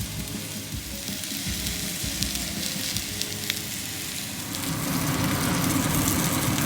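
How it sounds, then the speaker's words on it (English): Pure ground beef burger patties sizzle steadily while grilling in a hot pan, a continuous close frying hiss that swells slightly louder toward the end, with no talking. "I'm just gonna grill them in the pan until ready."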